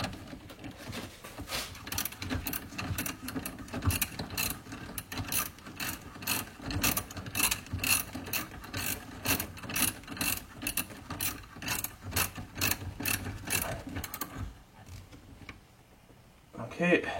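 A ratchet wrench fitted with a 13mm socket tightens a fastener in a long run of fast, even clicks, close and steady for about fourteen seconds before it stops, with a brief spoken word near the end.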